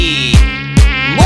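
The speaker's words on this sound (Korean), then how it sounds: "모기" A mosquito's thin, steady whine hovers close and loud, swooping in pitch as it passes, with three quick dips in the buzz during a rural night scene.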